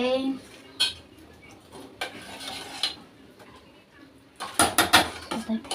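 Poha being stirred in a pan: a spoon scrapes and clinks against the metal in scattered bursts, with a quick flurry of louder clatter near the end and quiet gaps between.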